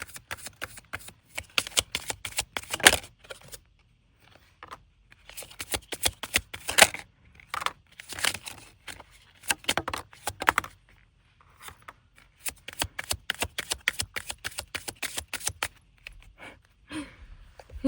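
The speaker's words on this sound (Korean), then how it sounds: "근데 개인적으로 궁금한 게 하나 있어서 카드를 뽑아보도록 할게요" Tarot cards are shuffled and drawn at close range in bursts of quick riffling and slapping, separated by short quiet pauses, with no talking.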